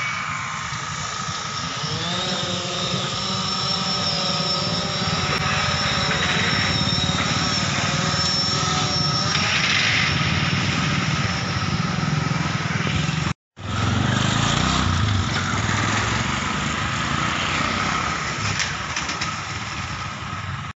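A police surveillance drone flying over Solapur city to monitor crowds gives off a loud, steady high-pitched motor whine that runs nearly continuously, broken by one brief dropout.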